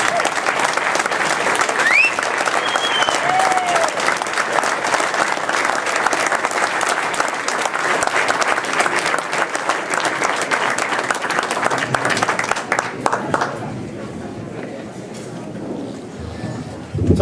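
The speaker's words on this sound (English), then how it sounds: "Let's give a round of applause for J.T. Torres." A veterans' awards bash crowd gives a sustained round of applause for an award recipient, dense and steady for about thirteen seconds before thinning out near the end.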